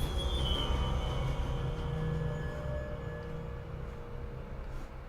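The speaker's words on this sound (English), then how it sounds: "You can't scare me with a train." A train rumbles past in a PT-style horror video game, a low continuous rolling drone with thin high wheel squeals, loud at first and slowly easing away, with no talking over it.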